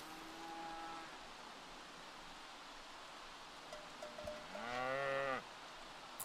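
A cow moos in the rain in the Sims 3 video game, a drawn-out low call near the end over a steady hiss of rainfall, with a few faint tonal game sounds earlier.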